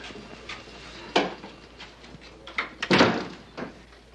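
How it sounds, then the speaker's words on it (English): A door closes in an office with a couple of soft thuds and one louder bump, fairly close in a quiet room, with faint background noise between the sounds. "You want me to close the door?"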